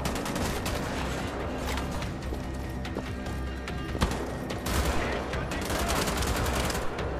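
An assault rifle in Wolfenstein fires in rapid, loud bursts, sharp cracks packed tightly over a thick, rumbling game soundscape that carries on for several seconds.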